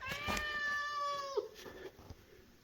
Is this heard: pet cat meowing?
yes